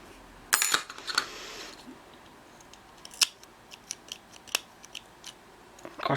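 Scissors cutting thread close against a handmade stuffed unicorn toy: a few sharp, crisp snips near the mic, separated by quiet pauses and faint handling, with no talking.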